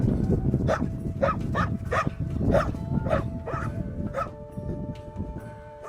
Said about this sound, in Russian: Добрые собаки тут рвутся с поводка.